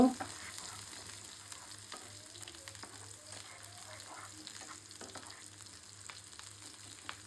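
Onions and garlic fry in oil, a quiet continuous sizzle with scattered crackles and occasional light stirring.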